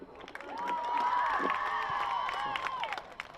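Crowd at a high school girls' varsity soccer game cheering and shouting after a goal, a sustained swell of voices and whoops with some clapping, fairly distant and rising then fading.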